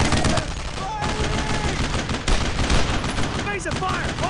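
Rapid gunfire in the World War II video game Brothers in Arms: loud, dense bursts of automatic weapons and rifle shots crackle almost nonstop, with a few voices shouting orders underneath.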